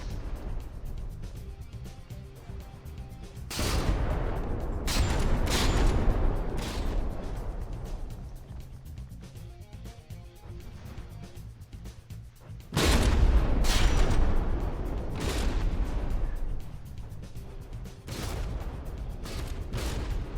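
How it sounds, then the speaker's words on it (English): Naval guns firing in the From the Depths game during a tournament battle between two warships: loud repeated volleys of booming gunfire come in two heavy bursts, with lighter scattered blasts and rumble between them. "Seems like the Varluk is landing more consistent shots this time."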